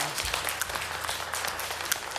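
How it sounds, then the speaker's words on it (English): An audience applauds with a dense, steady wash of clapping that holds at a moderate level throughout, with scattered sharper claps standing out from the crowd. "Give yourself a big round of applause."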